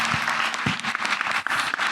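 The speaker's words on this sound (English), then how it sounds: "A nice round of applause for Lily." Audience applause at a panel discussion on immigration and the economy, a brief, dense burst of crowd clapping, fairly close and steady, with no voices over it.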